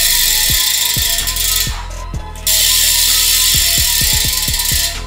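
Rapid, loud mechanical clicking of a Profile Mini freewheel hub ratchet as a custom BMX wheel spins, buzzing continuously with a short quieter dip midway.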